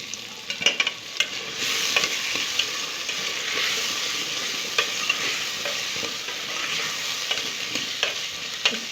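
Onions and potatoes fry together in a pan for fish curry and are stirred. A bright, dense sizzle holds steady, with frequent clicks and scrapes of the spatula up close.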